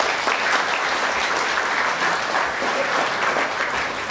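Audience at an indoor partnership gathering breaks into full, steady applause, a thick wash of clapping held at an even volume throughout with no talking.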